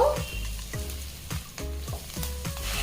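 Potato aloo katli with chopped coriander leaves stirred in a frying pan: a steady sizzle under about six rhythmic, scraping strokes of the spatula, close and moderately loud, with no talking.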